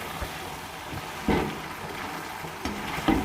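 Capsicum stirred into a frying mixed vegetable sabzi in a pan, with a low steady sizzle and two louder scraping stirs of the spoon, fairly close.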